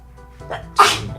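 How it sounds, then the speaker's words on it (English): A single powerful sneeze, loud and very close: a brief intake followed by a sharp explosive burst that trails off quickly, with no talking. "I've been having the most powerful sneezes of my life today."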